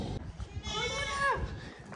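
A goat bleats once in a wavering call near the middle, audible over a background of people talking, with the animal close by in a setting where she is about to give birth.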